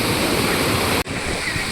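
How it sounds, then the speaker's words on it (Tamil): Aruvikkarai waterfall in Kanyakumari with fast-flowing river water, a loud, close, continuous roar that cuts out for an instant and then resumes. "நல்ல வெள்ளம் ஃபாஸ்ட்டாக போயின்ட்டுருக்கு."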